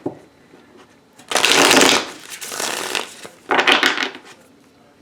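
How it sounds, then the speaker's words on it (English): Tarot cards are shuffled in two loud, crisp riffle bursts, each about a second long, separated by softer rustling and handling of the deck, close to the microphone. "I'm going to give the cards a good shuffle."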